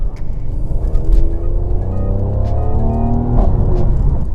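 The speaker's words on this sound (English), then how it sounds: "This V6, I know the C63s are known for the sound, but guys, just listen to this" Mercedes C43 AMG with a 3-litre bi-turbo V6 revving loudly up through the range, a steady rising engine drone with harmonics climbing and a sharper burst near the end, no talking.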